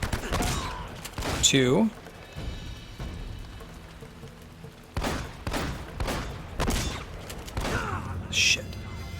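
An enemy in Uncharted: Drake's Fortune fires at the player in separate sharp bursts spread across the scene, with someone talking between and over the shots.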